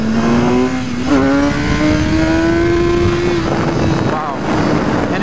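A 2014 BMW S1000R motorcycle pulls hard at full throttle, its engine note rising steadily in pitch, loud and close, with wind rush and a brief talking voice.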